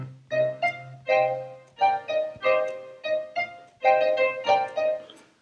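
Pre-made sample slices triggered one after another in the Samplist app, a string of short tonal musical hits in an uneven rhythm, each sharply attacked and quickly fading, with a low sustained note underneath at the start.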